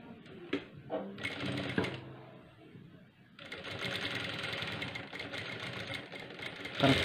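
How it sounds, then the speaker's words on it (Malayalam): A sewing machine stitching a blouse, running in bursts of fast mechanical whirring with short pauses, then a longer steady run, close and fairly quiet. "ഒരു സ്റ്റിച്ച് കൂടി കൊടുക്കുക."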